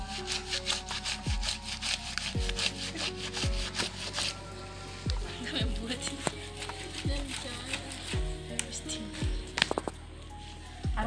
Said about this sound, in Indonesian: ini saya akan kucek semuanya sampai habis dan halus